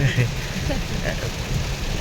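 Steady rain falls outside on a dark day in rural Isan, a dense continuous patter with faint talk underneath.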